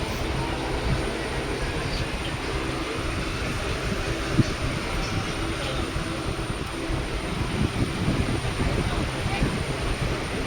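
Inside a passenger train carriage waiting to depart, a steady low rumble and hum fills the space throughout, with faint background murmur and occasional small knocks, no distinct announcements or movement.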